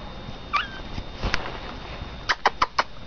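A Pomeranian puppy makes a few short, high whimpering squeaks close by, the last several coming in a quick cluster against a quiet background.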